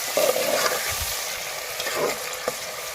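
Chopped onions hit hot ghee for chicken karahi, giving a steady close sizzle and frying hiss with a few stirring scrapes and clinks of a utensil against the pan, no voices.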